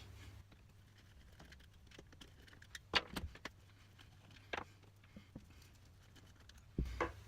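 Bolts being loosened on a Toyota Supra shifter during a short-shifter install: a few scattered, quiet metallic clinks and taps of tools and hardware, close by, with long hushed gaps between them.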